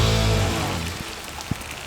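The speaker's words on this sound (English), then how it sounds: "Well, it's raining," Rain falls steadily onto an outdoor surface beside freshly poured Rapid Set concrete, a dense even hiss with a few louder drops landing close by.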